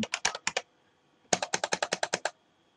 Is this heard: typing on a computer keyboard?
yes